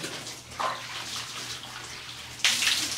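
Water from a tap splashes and rinses over a shelter dog being bathed, a soft running gush close by with a sharper burst of spray near the end.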